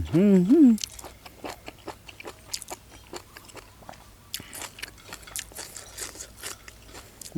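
Crunchy chewing and biting of spicy jellyfish salad close to the mic, a rapid series of wet crackles and crunches after a brief vocal sound at the start.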